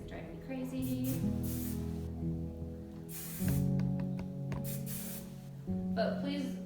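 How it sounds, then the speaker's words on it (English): Hairspray hisses in several short, loud bursts onto slicked-back hair during a French braid and ponytail styling, with someone talking between and over the sprays. "I'm obsessed with all the hairspray, so I go back and spray all the tiny hairs down"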